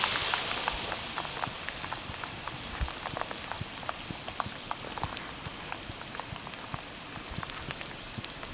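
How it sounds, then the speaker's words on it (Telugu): Ingredients for festival pulihora tamarind rice fry in a pan, a steady fine crackling sizzle like light rain, fairly close and even throughout. "అన్నీ అయితే మంచిగా ఫ్రై అయినాయి."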